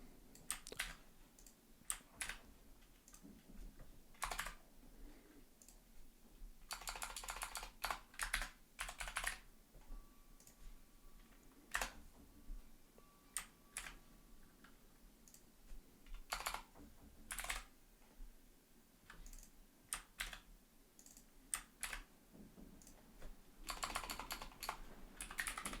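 Code is typed on a computer keyboard in quick irregular bursts of soft clicks with short pauses between them, close by but quiet, and nobody speaks.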